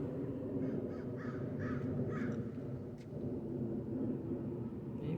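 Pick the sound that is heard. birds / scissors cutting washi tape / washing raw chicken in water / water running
birds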